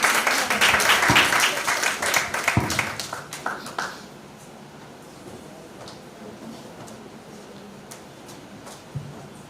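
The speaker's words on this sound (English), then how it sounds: "Continue the applause." Audience applause at a high school debating competition claps briskly for about four seconds, then fades into a quiet room with a few scattered claps and small knocks.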